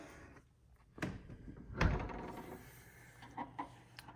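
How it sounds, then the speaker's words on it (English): An interior door to a hidden room swings open with a soft click, a sharp clunk and a brief creak, followed by a few faint knocks, with no talk. "if you open this door"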